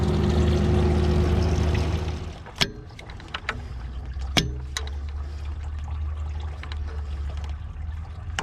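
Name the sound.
coolant draining into an old mortar pan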